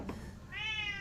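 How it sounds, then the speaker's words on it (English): A house cat lets out a single rising meow, close and clear, following a brief faint sound, during a home solo guitar livestream. "Our cat's so enthusiastic."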